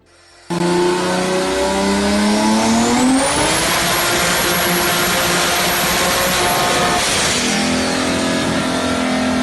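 A Mitsubishi Evo with a big turbo runs on a dyno, its engine revving hard and loud from a sudden start, climbing in pitch to a sustained high wail, then holding steady before easing off slightly, close and unbroken throughout.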